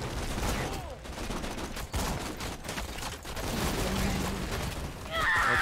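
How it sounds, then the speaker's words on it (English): Exploding bullets from a gun in Borderlands 2 fire in a dense rapid barrage of close gunshots and bursting pops, loud and continuous. "this gun's bullets explode after a time!"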